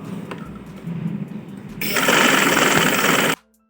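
A sewing machine stitches an open frock, running in short quiet bursts before settling into a loud, steady whirring stretch that stops abruptly.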